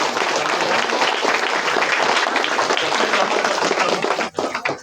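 Guests at an engagement ceremony applaud steadily as the ring is exchanged, a dense, loud burst of clapping that holds for several seconds and then breaks off abruptly near the end.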